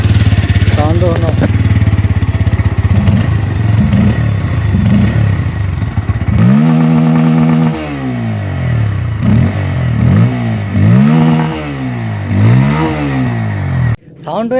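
A newly bought motorcycle runs loud and close, first idling with a rough, throbbing note, then revving repeatedly in rising and falling surges before cutting off abruptly near the end.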